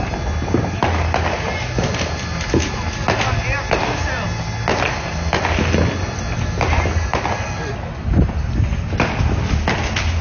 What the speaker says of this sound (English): I love big fireworks